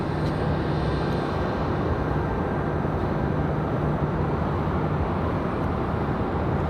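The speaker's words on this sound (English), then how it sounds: "Here comes that Republic departure." A Republic Airways jet departs Raleigh-Durham airport, its engines a steady, loud broadband roar that holds evenly throughout with no voices over it.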